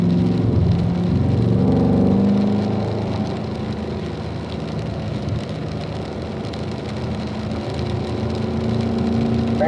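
A car at speed on a wet race track in pouring rain, its engine a loud sustained drone that eases slightly after a couple of seconds, heard close from inside.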